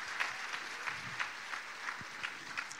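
A church congregation applauds during a sermon, many hands clapping together in a sustained, moderately loud patter with faint crowd murmur underneath.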